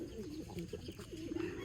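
A grizzle racing pigeon coos close by in a series of soft, low, rolling notes, repeated several times over a faint background.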